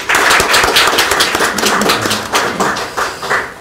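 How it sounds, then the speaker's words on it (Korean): A short, loud burst of close audience clapping at an ethics and human rights forum lecture, with dense overlapping claps throughout. "다시 한번 우리 박수."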